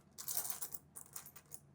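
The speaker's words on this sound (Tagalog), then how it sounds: "Pero puro barya." Coins dropping and jingling, a faint cluster of bright metallic clinks settling over under two seconds.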